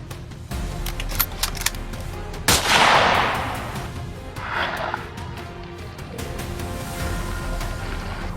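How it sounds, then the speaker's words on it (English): Rifle shots during a wild boar hunt: a sharp, loud crack that echoes and decays across a valley, followed by a second burst and rustling, handling noises in the brush. "I fire again, and this time it drops with a heavy thud that reverberates through the valley"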